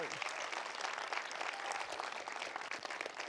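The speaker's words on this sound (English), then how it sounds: "Round of applause for this amazing class, please." Applause from a class of elementary school students at a school event, a steady dense wash of clapping throughout with talk mixed in underneath.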